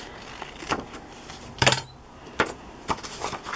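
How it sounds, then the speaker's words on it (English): Scissors cut through vintage paper in a few short, crisp snips, faint and close, with one louder slicing cut in the middle and no talking. "I will have to cut this with my scissors"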